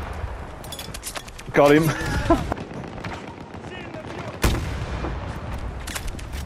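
An M5 84mm recoilless rifle fires in Battlefield 2042 with a single loud, sharp blast, surrounded by scattered gunfire and battlefield noise while a player talks briefly.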